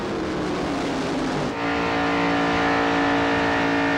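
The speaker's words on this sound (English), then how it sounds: "Meanwhile, Skinner in the 50 almost revving again" Race cars in a 1996 ARCA stock car race at Daytona International Speedway roar loudly, one engine note dropping and then jumping into a higher, sustained revving howl.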